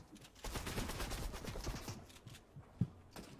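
Rapid automatic gunfire in Fortnite Arenas, a fast rattling stream of shots for about two seconds, then sparser single shots and one sharp thump, loud and close.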